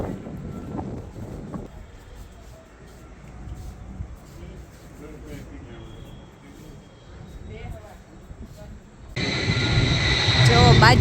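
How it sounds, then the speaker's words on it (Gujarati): An airplane passes close by near a Swaminarayan temple in Jamnagar, its broad roar swelling loudly over the last couple of seconds, with people chatting and breezy background noise throughout. "બાજુમાંથી પ્લેન છે"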